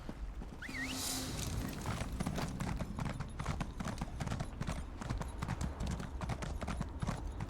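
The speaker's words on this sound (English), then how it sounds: "Running around on the horse that has yet to be named." Rapid, steady clip-clop of horse hooves galloping in Elder Scrolls Online throughout, loud and close, with a brief rising whoosh near the start.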